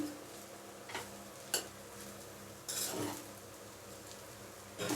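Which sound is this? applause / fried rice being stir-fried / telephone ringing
fried rice being stir-fried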